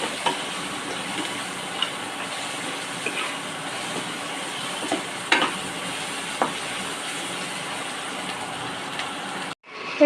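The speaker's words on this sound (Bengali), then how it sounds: "তার জন্য ঝিঙে আর আলুটাকে ভালো করে একটু ভাজা ভাজা করে নিচ্ছি" Ridge gourd and potato sizzling in a pan with turmeric and salt, a steady close hiss with occasional light clicks of stirring, no talk, ending with a brief cut.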